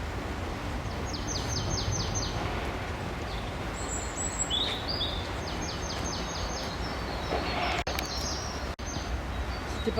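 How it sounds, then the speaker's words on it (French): Birds sing in the woods near Pau in February, with repeated high chirping phrases and trills spread over the clip. The calls sit faint to moderate above a steady outdoor rumble and wind. "Écoutez les oiseaux."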